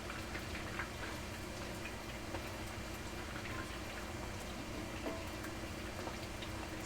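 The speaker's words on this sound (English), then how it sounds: "we're frying in grapeseed oil" Meatballs fry in grapeseed oil with a quiet, steady bubbling sizzle and faint scattered pops, heard alone without talk.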